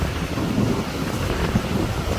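Strong wind buffets the microphone at the seashore while rough waves surge continuously toward the beach, making a dense, loud roar with no pause.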